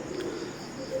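Teddy pigeons, babies of the Aliwala 35 line at two to three feathers, cooing softly in a low, steady murmur that carries on continuously in a short stretch with no talking.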